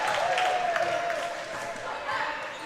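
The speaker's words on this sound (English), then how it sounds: "The crowd for the Packers is loving this show they're seeing today." A crowd at a high school varsity basketball game between Shanley and West Fargo roars and applauds steadily, with sneaker squeaks and ball bounces in the mix and a voice talking over the noise.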